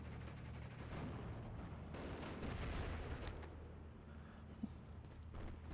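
Mortar fire and shell impacts in the World War II strategy game Steel Division 2 make a dense, continuous rumble of distant blasts, with a small sharp click toward the end.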